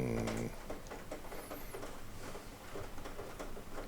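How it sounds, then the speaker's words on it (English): Steady rain patters behind a small home recording studio, a dense, even wash of fine taps continuing throughout at moderate level with no voice over it. "Nothing I can do but the sound of rain behind me."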